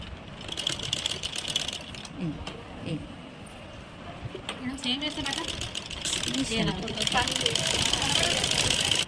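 A sewing machine stitches cloth with a fast, steady mechanical whir and rattle that runs nearly continuously. A voice talks over it at close range.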